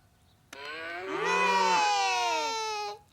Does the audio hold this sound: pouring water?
no